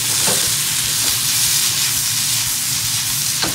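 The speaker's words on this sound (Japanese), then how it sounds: "じゃがいもの方は蒸した時の水を切ってないので、ちょっと油跳ねるかも。" Bacon, onion and steamed, undrained potato frying in oil make a loud, steady sizzle with scattered spattering pops throughout, close by and alone.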